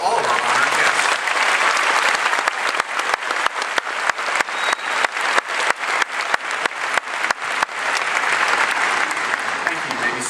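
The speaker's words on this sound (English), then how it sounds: "How about a nice round of applause for all of our honored guests" Round of applause from a ceremony audience honoring guests, a dense steady wash of clapping that thins into scattered individual claps midway and then swells back to full, continuous and close.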